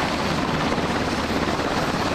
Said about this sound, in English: 7 helos carrying 180 people returned home Wednesday afternoon.